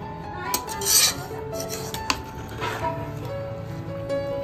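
Chicken biryani being mixed in a cooking pot, with scraping and rubbing strokes of a spoon against the metal and occasional clinks of utensil on pot, close and steady.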